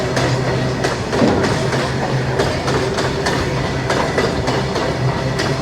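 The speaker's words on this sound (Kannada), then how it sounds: "ನೋಡಿ ಹಿಂದ್ಗಡೆ ಟ್ರೈನ್ ಹೋಗ್ತಾಯಿದೆಯಲ್ಲ" A train rolls past on the railway track near Dudhsagar, with continuous rumble and rhythmic clickety-clack of wheels over rail joints, close by and loud throughout.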